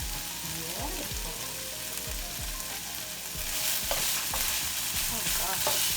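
Minced pork with spring onions sizzles steadily in a hot pan while a utensil scrapes and stirs through it in repeated strokes, the frying hiss filling the background throughout.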